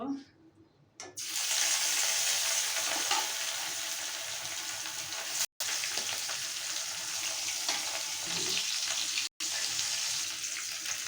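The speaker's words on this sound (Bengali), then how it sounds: "এখন আমি মাছগুলো ভেজে নেব।" Pieces of mrigal fish rubbed with turmeric and salt fry in oil in a wok, a continuous close hiss that starts after a quiet second and is cut by two brief dropouts.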